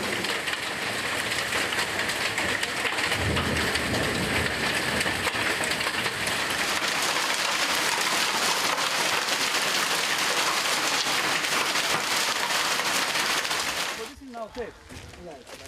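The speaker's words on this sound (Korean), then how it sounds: "갑자기 한바탕 폭우와 우박이 쏟아져 내립니다." Heavy rain and hail pour down during Swaziland's summer rainy season, a dense, steady roar that continues unbroken for most of the stretch and then cuts off sharply near the end.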